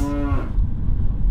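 A cow lets out a short, close moo, followed by the low, steady rumble of a car driving past cows in a field.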